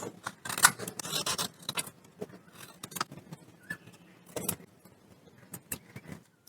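Close, crisp snips and rustles from cutting a paper piecing pattern subsection for a quilt flower tile block, coming in irregular bursts with quiet pauses between them and no talking.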